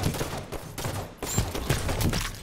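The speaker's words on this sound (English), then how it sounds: "Wow, I got naded and shot at." Fast gunfire and grenade blasts in a video game, dense crackling bursts of shots with a couple of thumping hits in quick succession, loud and close, with no talking.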